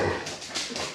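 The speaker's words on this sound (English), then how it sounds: "we're being interrupted by Tobin's dog wanting to play" A dog whines in short, repeated bursts close by, eager to play, over a steady background hiss.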